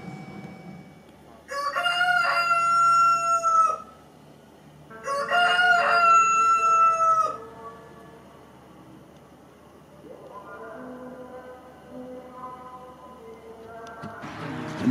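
A rooster crows twice, loud and close, each call drawn out, followed by fainter crowing farther off; near Taanayel, Lebanon.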